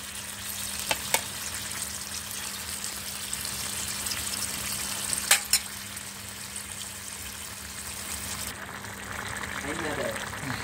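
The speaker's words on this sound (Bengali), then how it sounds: "এখন মাছটাকে আমি খুব ভালো করে পেঁয়াজের সাথে কষিয়ে শুকনো শুকনো করে" Shrimp fried with onions in a pan for a Bengali bhuna, a steady close sizzle with a few sharp scrapes and clinks of stirring throughout.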